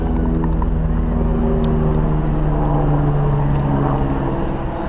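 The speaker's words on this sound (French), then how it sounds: "Le bruit d'hélicoptère." A helicopter drones overhead near an outdoor gravel walking path, a loud, steady rumble with a throbbing engine hum that persists unbroken, without any voices.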